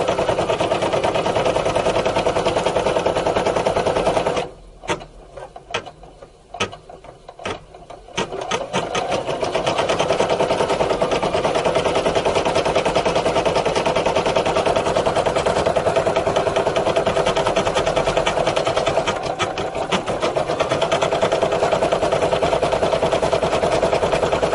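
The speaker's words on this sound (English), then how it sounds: "So this machine stitches at 650 stitches per minute." A Brother Innov-is F440 embroidery machine stitching at about 650 stitches per minute, a loud steady mechanical whir and clatter that drops into brief sparse ticking, then resumes continuously close by without talk.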